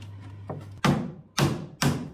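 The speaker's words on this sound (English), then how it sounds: "I used an old chisel to clean up the corners of any remaining cement." An old chisel knocks and scrapes leftover cement from the corners of a bar cart in a dusty workshop, making three sharp, loud strokes about half a second apart, each fading quickly.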